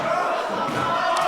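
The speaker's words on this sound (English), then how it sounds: "Listen to Kieron Lacey firing up this crowd." A wrestling crowd at a live show gets fired up, a dense roar of cheering and shouting voices, loud and sustained throughout with a few thumps beneath the noise.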